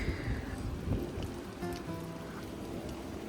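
Steady rain hissing and pattering outdoors across the whole stretch, with a low rumble of cars passing by underneath; no voices.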